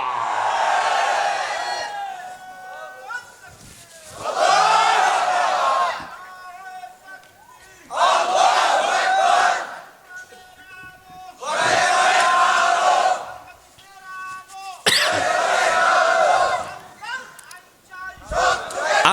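Crowd at a Bangladeshi Islamic religious gathering (mahfil) chanting political slogans in loud unison, in five bursts of a few seconds each separated by short pauses, with a lead voice calling out between them.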